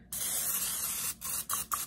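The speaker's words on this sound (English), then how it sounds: "I'm going to spray with some butter spray." Butter spray hisses into a ramekin: one long, close, steady spray followed by three short bursts, with no talking.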